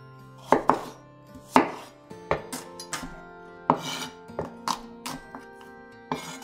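Knife blade coarsely chopping shallots on a cutting board in uneven chops, close and crisp, with short pauses between clusters of cuts; no talking.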